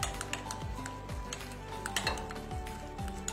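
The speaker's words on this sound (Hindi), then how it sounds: "ये सारी चीजें हमें डालकर इसको हम अच्छी तरह से मिक्स कर लेंगे" A spoon scrapes and clinks against a bowl while chicken mint roll filling is mixed, giving a steady run of rhythmic stirring knocks and metallic clinks close by.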